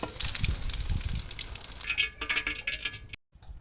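Pieces of purple eggplant frying in cooking oil in a pan, a bright continuous crackling sizzle with bursts of popping and stirring, close and moderately loud, cutting off abruptly near the end.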